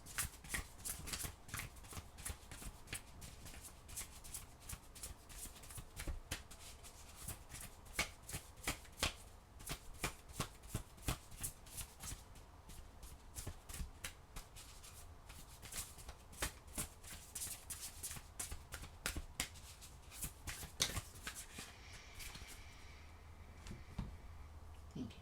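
Oracle cards are shuffled continuously and close up for a long stretch, giving a dense, rapid patter of soft slaps and riffles with no voices over them.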